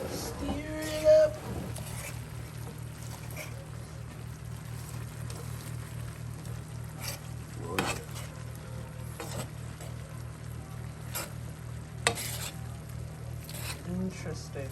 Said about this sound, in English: I'm gonna stir it up.